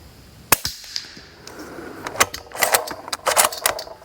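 A Q Mini Fix SD rifle fires a sharp, close report, followed by a string of crisp mechanical clicks and clacks as the bolt is cycled, loud and without talk.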